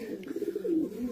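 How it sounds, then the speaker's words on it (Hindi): A Teddy flying pigeon, called a commando pigeon, gives a soft low cooing phrase close by, a rolling throaty murmur that swells and dips over about a second, with no talk. "ये कमांडो कबूतर"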